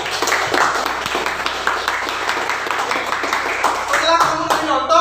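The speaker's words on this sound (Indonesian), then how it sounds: "Ya, tepuk tangan untuk Eza" A classroom of students claps for a classmate, a brisk run of hand claps at close range with children's voices chattering over and around it.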